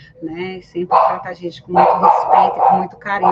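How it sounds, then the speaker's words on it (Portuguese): A pet dog barks repeatedly and excitedly indoors, sharp, loud yaps in quick bursts mixed with a woman's speech. "esse é meu cachorro, ficou maluco"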